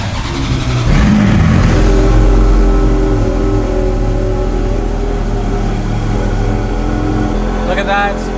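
A Ferrari Scuderia sports car engine starts up with a sudden loud burst, then settles into a strong, rumbling idle close by.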